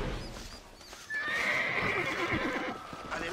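A horse in the video game Red Dead Redemption neighs in a long, bright whinny over rapid clip-clop hoofbeats of galloping, both close and clear with no talk.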